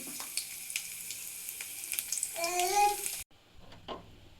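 Finely chopped garlic hits hot oil in a pan, a steady close sizzle that swells briefly, then cuts out abruptly into quieter kitchen sounds.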